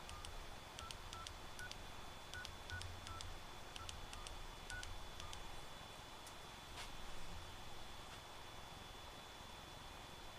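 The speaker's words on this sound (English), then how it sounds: "Got dial tone. I'm going to dial." Touch-tone DTMF dialing on a US SB-22/PT field phone: a quick series of short, clean beeps spread over the first five seconds, then a steady line tone under a faint background hiss.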